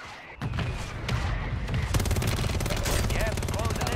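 Gunfire and blasts in the Call of Duty video game: a sharp crack, then sustained rapid automatic fire with booms, loud and dense to the end, with a voice talking over it.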